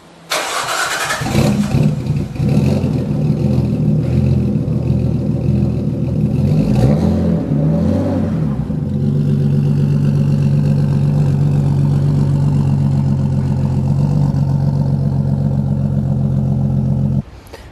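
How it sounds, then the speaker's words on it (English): A 1995 Nissan R33 Skyline GTST starting up, revving hard a few times, then settling into a loud, steady close-up idle that runs alone before cutting off abruptly. "my brand new car, my 1995 R33 Nissan Skyline GTST"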